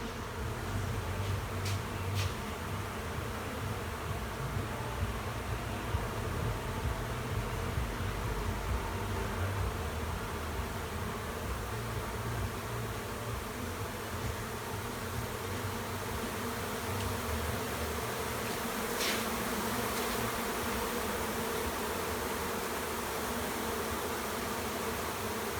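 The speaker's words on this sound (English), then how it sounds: "everybody's familiar with the bees this time of year" Bees buzzing around beehives in an August apiary yard during robbing season, a dense continuous hum with steady insect drone throughout, no voices.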